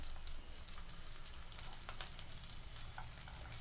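Slices of raw banana fry in a shallow pan, giving a steady, soft sizzle with scattered small crackles and pops, faint and continuous, with no voices.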